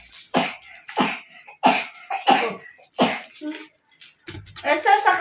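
A young girl with a cough hacks in a run of sharp, close, repeated coughs spaced about half a second apart, followed by a brief burst of voices.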